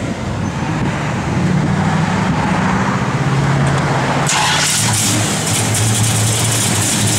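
A 1970 Dodge Charger R/T's V8 engine runs loudly nearby, idling with a heavy burble and then revving up sharply partway through.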